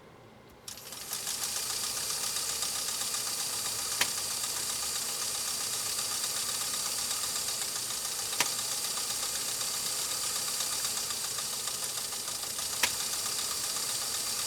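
A PFAFF 360 sewing machine starts up and runs at steady speed, a continuous close whirring hum with a faint click every few seconds and no talk.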